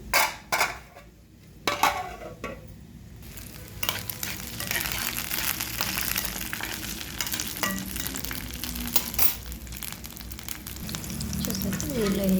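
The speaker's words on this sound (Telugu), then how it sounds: "ఇలా మధ్యలోకి ఎత్తితే ఏముంటుందంటే పచ్చిమిర్చి పేలదనమాట, లేకపోతే ఎగిరిపోతూ ఉంటాయి కదా ఆయిల్లో వేడికి." Green chillies frying in hot oil in a pan for gongura chutney, a steady crackling sizzle with sharp pops and scrapes of stirring throughout.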